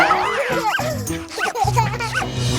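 Cartoon dog barks and yips in quick bursts within a Polish children's song, clear and close, with harmonic, voice-like tones that may be a singer imitating the barking over a music backing.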